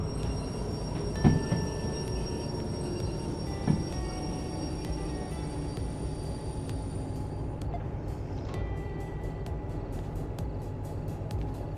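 A locomotive in the Derail Valley train game rumbles steadily with a constant low engine drone and rolling rail noise, a couple of faint clanks, and light rhythmic clicking toward the end.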